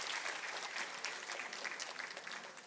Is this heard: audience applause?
yes